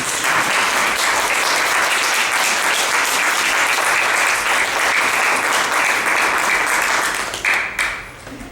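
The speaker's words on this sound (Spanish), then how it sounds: "Un aplauso al Señor." A church congregation claps loudly and continuously in a dense, sustained wash of applause that tapers off near the end.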